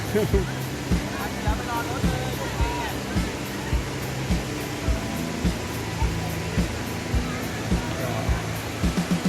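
Khlong Lan waterfall in Thailand roars as a broad, steady rush of falling water close by, with faint footsteps or tapping at a regular pace and occasional voices underneath.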